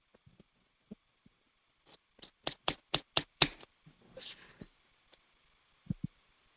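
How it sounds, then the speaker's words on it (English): Scattered claps, sparse and faint at first, then a brief run of about seven sharp, close claps in a quick rhythm that fades to a few isolated claps, all from a small online class group with no crowd. "Everybody give yourself a round of applause."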